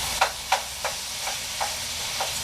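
Coconut caramelizing in a pan under a constant close hiss, with about six sharp scraping stirs at uneven intervals and no voices.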